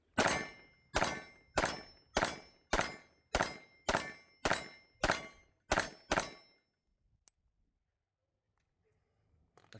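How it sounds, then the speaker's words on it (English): Ten rapid pistol shots from an Arabus handgun at a shooting range, sharp evenly spaced reports about half a second apart, loud and close, followed by a few seconds of near silence. "Shooting the Arabus for comparison."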